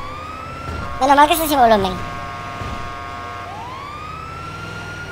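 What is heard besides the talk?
ambulance siren in GTA roleplay video game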